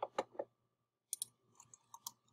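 A computer mouse clicks several times, quick close taps in two small bursts, faint and isolated in a quiet room.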